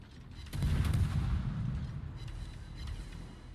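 Naval gunfire from the Mogador destroyer in World of Warships, a heavy booming salvo bursting out and rumbling on, followed by fainter distant shot reports.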